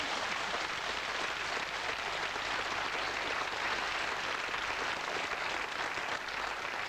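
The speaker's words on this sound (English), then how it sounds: "Cue applause." Studio audience applause at a 1982 magic show, a dense, even roar of many hands clapping that holds steady without pause from start to finish.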